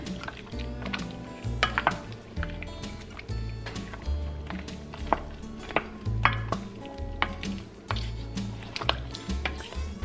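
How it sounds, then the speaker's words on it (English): A spoon stirs chicken stew with thyme, bay leaves and chopped carrots in a pot, giving soft wet squishing and scraping with occasional light clinks against the pot, fairly quiet and close. "Add 1 teaspoon of thyme and 2 bay leaves. Give that a stir."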